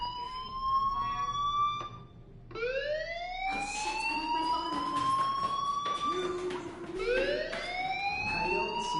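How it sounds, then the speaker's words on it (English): An alarm sounds in the video game Life is Strange as rising, wailing siren-like sweeps repeating over several seconds, loud and steady, with no voices over it. "do you hear that fire alarm? That means you should be outside."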